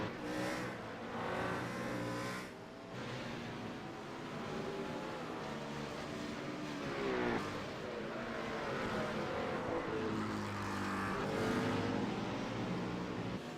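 Race cars in a sim racing game at Bathurst, a steady, sustained engine drone with shifting revs as cars battle closely, continuous and fairly loud throughout with no talk over it.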